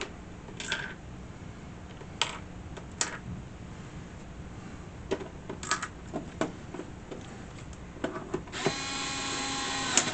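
Four bottom screws being driven into an Atari 410 program recorder case, heard as close scattered clicks and scraping handling sounds, ending in a short steady whirring burst.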